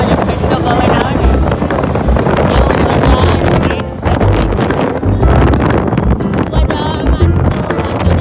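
Cold morning wind rushing past while riding an Activa scooter, a loud, constant roaring buffet over the microphone with gusty surges, and people talking underneath.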